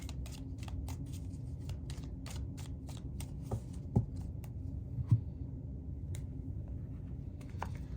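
Tarot cards being shuffled and drawn by hand, a run of quick crisp riffling snaps and flicks, close and fairly quiet, with a couple of soft taps.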